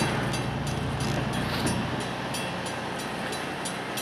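A train locomotive rolls past at a rail line in the Tri Cities, producing a steady, loud rumble with rhythmic clattering of the cars that holds without a break for several seconds.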